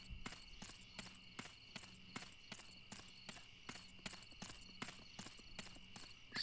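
Steady clip-clop of horse hooves in the Western video game GUN, evenly spaced and fairly close, with a constant insect-like chirping hum behind it and no talking.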